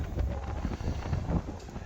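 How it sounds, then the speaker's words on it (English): Gusty wind buffets the microphone atop the Fort Gratiot Lighthouse on a lake shore, a low rumbling roar that swells and dips over a couple of seconds. "It's windy."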